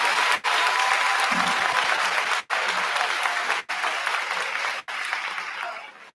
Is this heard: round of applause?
yes